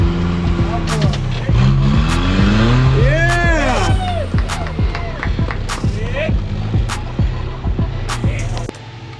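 Teenage driver's rock crawler buggy working its way off-road over hard rock lines, engine revving up and down in bursts with rising and falling pitch, close and loud, while a person talks over it.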